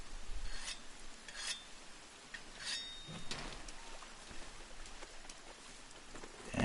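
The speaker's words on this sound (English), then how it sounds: "we are going to sharpen our weapon because durability is a thing" In the video game Monster Hunter, a whetstone sharpens an Insect Glaive with a series of gritty rasping strokes in a loose rhythm, close and moderately loud over faint background ambience.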